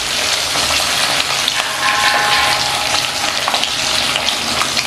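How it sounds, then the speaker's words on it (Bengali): Hilsa fish fries in hot oil in a pan with a loud, dense, continuous sizzle close by, crackling steadily throughout without talk. "কয়েক সেকেন্ডের মতন এপিট ওপিট করে ভেজে নিতে হবে"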